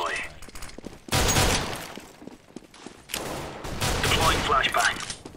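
A decoy grenade in the video game CS:GO fakes gunfire with two loud, dense bursts of rapid shots separated by a short pause, mixed with game noise.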